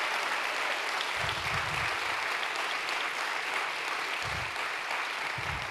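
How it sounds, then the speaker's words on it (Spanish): A church congregation applauds at a Sunday evening service, a steady wash of clapping held at an even level throughout, with a few low thumps underneath. "Denle un fuerte aplauso a Jesús por esta fe."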